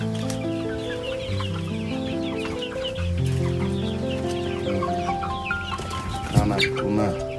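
A flock of chickens clucks continuously and loudly at close range, overlapping calls layered with occasional higher squawks, no talking.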